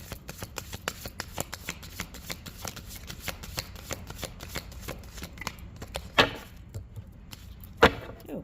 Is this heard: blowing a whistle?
no